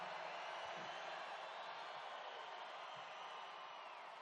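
Thousands of people at a Trump thank-you rally in Pennsylvania produce a distant, steady crowd roar that stays constant without distinct bursts.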